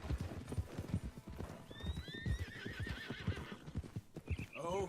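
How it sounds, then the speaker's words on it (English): Hooves clop in a steady rhythm close by while wild horses whinny and neigh over them, in the video game Red Dead Redemption 2. "Here's some wild horses."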